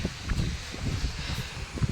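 Steady wind blustering against the microphone, with low rumbling gusts and some rustling, continuing throughout without talk.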